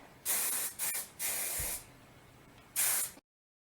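Four short bursts of aerosol hairspray hiss, each lasting under a second with brief pauses between, close and fairly loud, no voices.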